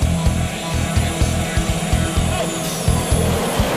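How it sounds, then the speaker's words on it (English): A jet aircraft flies low at about 170 miles an hour while racing a motorcycle, making a loud, close roaring rush with pulsing surges over a continuous broadband engine noise. "The jet is flying at 170 miles an hour."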